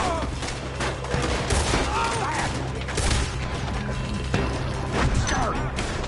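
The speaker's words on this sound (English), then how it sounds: "Let's just hope we don't run out of bullets." Sustained gunfire from the Western video game Red Dead Redemption, with dense volleys of shots and mechanical clatter running throughout, loud and continuous, mixed with game ambience.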